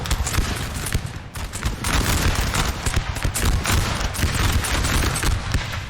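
Dense, crackling musket volleys from massed infantry lines in the Napoleon Total War 3 video game, a steady rapid fusillade of overlapping shots at mid distance with no talking.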